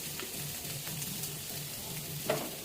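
Carrot, beet, onion and chopped chili sizzle in a pan as they are stir-fried, a steady close crackle broken by scraping and stirring strokes.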